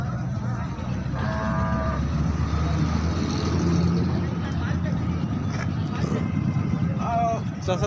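Pakistani Shahiwal bulls at a cattle market give two low moos a few seconds apart, heard over busy crowd chatter and nearby voices.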